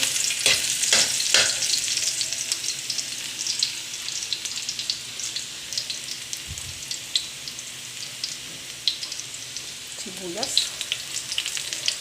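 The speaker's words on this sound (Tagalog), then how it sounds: "Magigisa na tayo." Garlic and onion sautéing in a pan for Filipino pork adobo, a steady close sizzle and crackle of frying with occasional stirring clinks, no talk.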